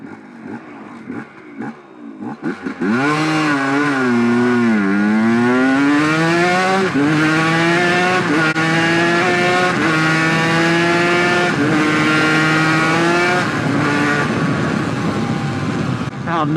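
Two-stroke motorcycle, a classic Suzuki RGV250 or new Langen, accelerating hard through the gears on the road: loud, close rising engine wail, with each upshift dropping the pitch before it climbs again, continuous throughout.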